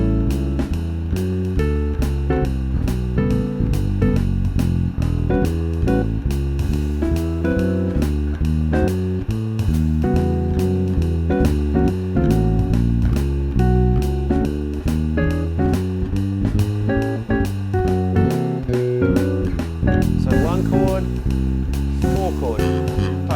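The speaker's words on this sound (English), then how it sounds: "Instead, you'd play more of a walking bass line" A walking bass line moves steadily through a jazz blues progression, with one note per beat over accompanying chords. It sounds full and close throughout, with no talking.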